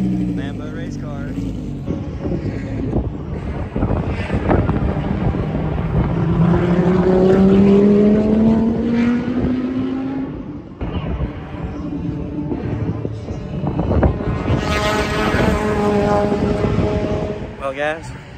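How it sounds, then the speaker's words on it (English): A Lamborghini race car drives on a track, its engine note climbing through loud rising revs with gear shifts, buffeted by wind noise, while people talk nearby. "Lambo race car."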